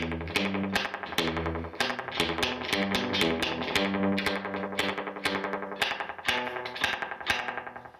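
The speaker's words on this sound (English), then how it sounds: "this is what I call a popping reverb because it pops" Distorted electric guitar chords are struck in a quick rhythm through a Raven guitar amp with heavy, popping reverb, each hit snapping with a sharp popping attack.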